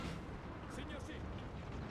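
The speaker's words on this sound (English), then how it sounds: "the cannons will set to fire." Cannon fire from a Napoleonic-era artillery battery in the Napoleon: Total War strategy game, a dense continuous rumble of booms and bursts filling the clip with a steady battlefield din, overlapped by voices.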